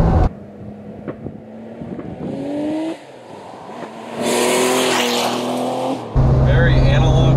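A 1974 Porsche Carrera 3.0 Turbo pulls hard from close by, engine note rising in stepped surges as gears change, with a voice talking over the loud, rough engine roar.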